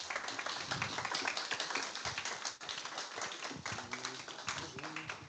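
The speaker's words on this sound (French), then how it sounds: "Vous pouvez les applaudir." An audience claps as guests walk onto the stage at an artificial intelligence talk event, a steady patter of hands with a few louder claps, while a voice speaks over the end.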